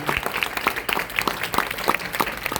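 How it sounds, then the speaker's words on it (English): Wedding guests give the maids of honor a warm round of applause, dense steady clapping from a seated crowd, fairly close and without talk. "let's have one more big round of applause for our maids of honor, Emily and Kayla"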